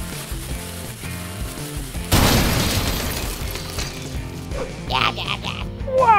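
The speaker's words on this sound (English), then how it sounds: "Even an explosion didn't work." A cartoon explosion goes off as a sudden loud boom about two seconds in, then rumbles and crackles as it fades. Brief quacking voices follow near the end.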